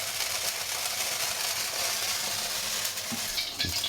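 Oil sizzles in a hot wok over medium-high heat, a steady, broad hiss that holds through the whole moment, with a couple of faint clinks near the end.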